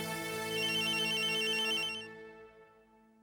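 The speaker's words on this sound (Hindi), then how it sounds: "राकेश का फोन" A phone ringtone plays a bright electronic melody, then cuts off and its tone fades out, followed by a brief click at the end.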